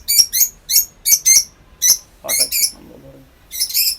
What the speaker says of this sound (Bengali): তো আমি এখন রিং পরায় দিচ্ছি পাখিকে,